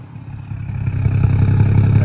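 BMW M235i with a catless downpipe idling close by, a steady low rumble that builds slightly in loudness and holds even, with no voices.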